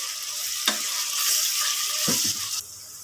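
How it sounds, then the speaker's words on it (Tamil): Onions sauté in oil in a pan until golden brown for mutton gravy, a close continuous sizzle with a couple of stirring knocks and scrapes. "எண்ணெயில் நல்லா ஒரு கோல்டன் கலர் ப்ரௌன் வர வரைக்கும் வதக்கிக்கலாம்."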